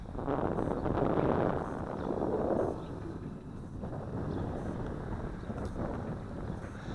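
Outdoors during a test flight of an FQ777 951C camera drone, a breeze rushes as steady wind noise against the microphone, gustier and louder in the first seconds, then easing to a constant low rumble.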